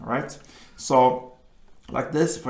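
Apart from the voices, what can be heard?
No everyday noises stand out.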